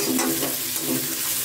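Sliced onion sautés in a pan for veg chowmein, a steady close sizzle with soft stirring scrapes throughout.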